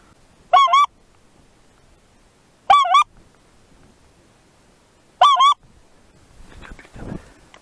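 Three loud, separate goose honks ring out at even intervals during a 2020 goose hunt on the Taimyr Peninsula, followed by a soft rustling stir.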